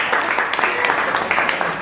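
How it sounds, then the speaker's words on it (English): Audience applause at a gender and child ministry programme event welcoming a guest, a continuous wash of many hands clapping at moderate volume with a faint voice underneath. "Can we be clapping for Hakuma?"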